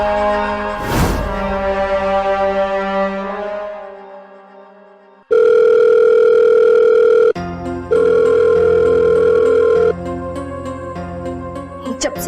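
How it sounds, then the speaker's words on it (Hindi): A landline phone rings out unanswered in a home, with a decaying bell-like tone followed by two long, loud steady ring bursts separated by a short gap. "जब से ये अज्जू काम पे लगा है, उससे घर आना तो दूर, उसने मेरा फोन भी उठाना बंद कर दिया है।"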